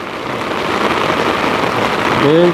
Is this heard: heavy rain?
yes